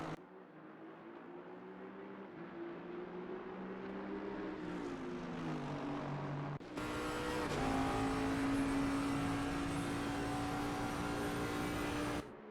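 Race cars at Monza in a console endurance racing game, an Aston Martin among them, heading into the Variante del Rettifilo chicane. A steady, loud engine drone with shifting pitch gives way to a brighter, higher onboard engine whine around the midpoint, with no talk.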